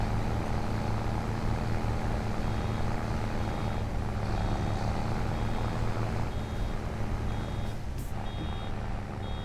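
Vehicle reversing alarm in the Farming Simulator 25 video game, faint regular beeps repeating over a loud, steady engine drone.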